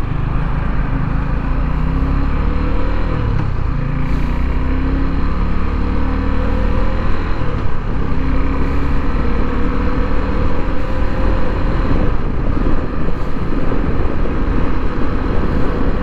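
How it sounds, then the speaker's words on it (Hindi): A Suzuki V-Strom SX 250 motorcycle riding in third gear at around 4000 RPM during its break-in period, giving a loud, steady engine drone with wind rumble that holds constant throughout, with no talking. "मैं अभी थर्ड गियर पे हूँ और मैं अराउंड 4000 RPM पे गाड़ी चला रहा हूँ"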